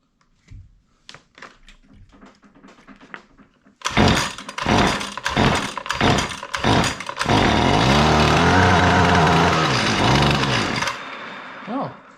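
A Husqvarna weed eater with a newly replaced carburetor is pulled a few times and then fires up. Its small two-stroke engine buzzes loudly and revs up and down before settling into a steady, close, high-pitched drone.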